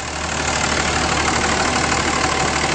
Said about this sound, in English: Cummins runs very smooth.